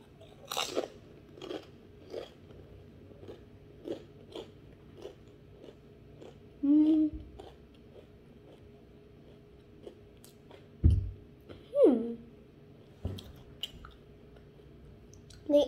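Potato chips of unusual flavors, including seaweed and pizza, are bitten and munched close up, with a series of sharp crisp crunches, some louder bites and softer chewing between, in a quiet room.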